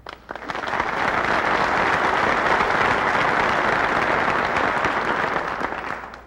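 Lecture audience breaking into applause, quickly swelling into a loud, sustained roar of many clapping hands that holds steady for several seconds before starting to fade.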